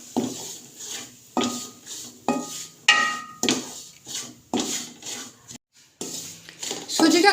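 Semolina is stirred while it roasts dry in a wok. A spoon scrapes and rubs against the metal in a steady series of strokes about a second apart, close and moderately loud, with a few short pauses.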